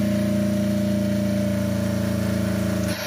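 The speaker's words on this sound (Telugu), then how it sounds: "మా మెకానిక్ ఇంజన్ స్టార్ట్ చేసిండు వితౌట్ వైరింగ్ లేకుండా" A Tata Ace engine, hand-started without its wiring harness, idles with a steady, close, rhythmic throb. It then cuts off abruptly near the end.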